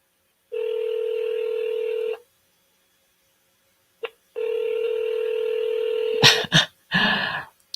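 An outgoing telephone call rings back in two long steady tones separated by silence, followed by brief clicks and a short burst of noise as the line connects or drops.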